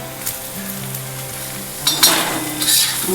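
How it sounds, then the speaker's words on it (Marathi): Green chilies roasting in a pan with salt and coriander for a spicy kharda, a soft steady sizzle broken by a few sharper crackles and scraping stirs, close and without talk. "सगळं भाजून घ्यायचं चांगलं मिरच्या चांगल्या भाजून घ्यायच्या"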